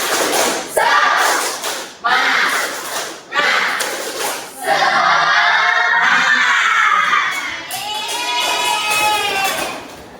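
A classroom group of students and teachers does the rhythmic "tepuk semangat" clapping chant, with loud bursts of clapping and shouted chanting in short repeated phrases, followed by sustained cheering and excited voices close by.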